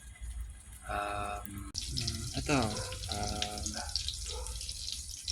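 Water runs from a tap in a steady, close stream that lasts the whole moment, while a person talks over it.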